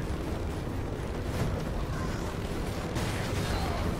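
Explosion in the video game Dead Rising 3, a dense, sustained blast rumble that swells again near the end, loud and close, with a faint voice underneath.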